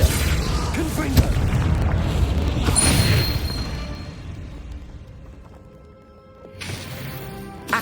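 A spell explosion booms in the Hogwarts Legacy video game, with loud bursts and crashes near the start, a sharp crack, then fading rumble and another impact, with speech-like vocal sounds mixed in.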